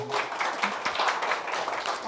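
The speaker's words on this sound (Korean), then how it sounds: "큰 박수 부탁드리겠습니다" A room full of people at a graduation ceremony claps steadily, a dense patter of applause with a voice faintly underneath.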